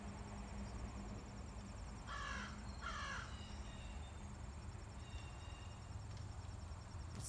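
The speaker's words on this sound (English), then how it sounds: "And this crow has been going at it for a while." A crow caws twice in quick pairs of harsh calls, faint and distant over a constant low outdoor hum and high insect buzz.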